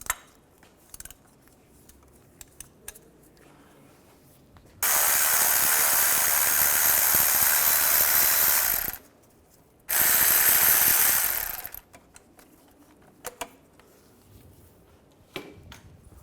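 Quick ratchet on a 15mm socket with an extension loosening starter bolts on a 2005-2010 Chevrolet Cobalt: two long bursts of rapid metallic clicking, about four and two seconds, separated by a pause, with faint handling clatter around them.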